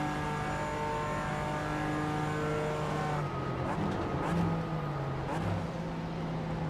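A BMW race car in iRacing holds a steady high-pitched engine whine, then shifts and revs up and down through the gears, loud and continuous, with commentary talking over it.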